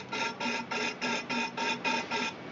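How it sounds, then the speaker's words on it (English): Carburetor cleaner is sprayed in short bursts through a Honda GX270 carburetor on a water pump. Eight evenly spaced, hollow hissing pulses sound close up, with no talk. "when you hear that dull echo of spray moving through the whole carburetor up into this plastic"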